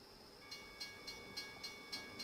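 A train passing a level crossing in American Truck Simulator, a faint steady rumble with rhythmic wheel clacks about every 0.3 seconds and a sustained high tone, distant and quiet.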